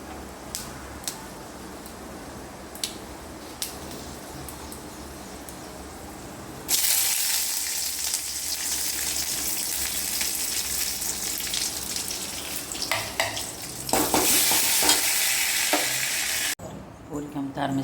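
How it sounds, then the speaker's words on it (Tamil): Oil heating in a home kitchen pan for frying puri, quiet at first, then a loud hissing sizzle that bursts in, swells again later and cuts off near the end. "எண்ணெய் காயுது"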